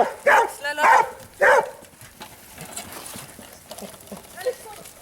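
A dog at agility training gives three loud, sharp barks close by, with quieter movement and some talking afterward.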